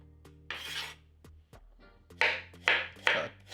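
A spoon scrapes the skin off a piece of ginger in a quiet kitchen, short rasping strokes arriving in uneven bursts, several quick scrapes clustered toward the end, with soft knocks between them.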